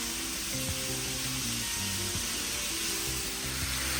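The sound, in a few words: vegetables sautéing in a pan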